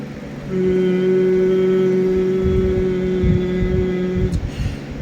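A steady, droning alarm buzz starts suddenly, holds a constant pitch for about four seconds over low rumbling, then cuts off.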